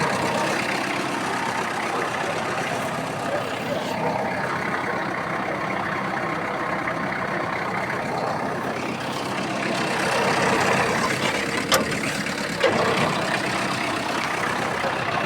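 A Kubota GT-3 Japanese mini tractor runs with its rotary tiller blades spinning, giving a steady, close diesel drone with a busy mechanical churn. The engine note rises slightly toward the end.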